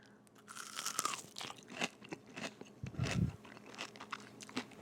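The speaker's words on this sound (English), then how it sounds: "listen for the crunch. This is a legit crunch." Loud, close crunching from biting into a crispy homemade fried chicken strip, followed by chewing with crackly bursts, no talking.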